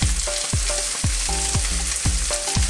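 Vegetables including baby corn stir-fry in a hot wok, sizzling loudly and constantly while regular scraping tosses of the spatula strike about twice a second.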